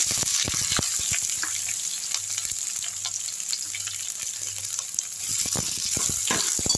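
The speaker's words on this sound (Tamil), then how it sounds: "தட்டி வெஞ்ச பூண்டை போட்டுருங்க பச்சை மிளகா போட்டுருங்க வெங்காயம் போட்டுடலாம்" Crushed garlic, green chilies and onion sizzle steadily in hot oil after mustard seeds have popped, with a continuous frying hiss and scattered crackles, close and fairly loud, with no talking.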